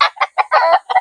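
Rooster and chickens at a backyard gamefowl breeding yard in Laguna give off a run of close, loud clucks and squawks in quick bursts, one drawn-out call in the middle, with no talking.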